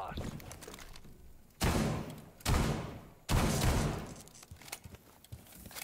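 Gunfire in the video game Rainbow Six comes as three loud, sharp bursts of shots with abrupt onsets and short decaying tails, spaced a second or so apart amid quieter game noise.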